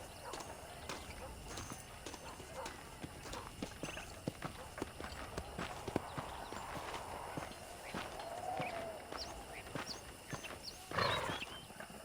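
Horse hooves clip-clop steadily in the video game Red Dead Redemption, with a brief whinny near the end, all under ongoing talk and background game ambience.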